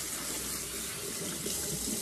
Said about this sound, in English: Rinse it off with some cool water.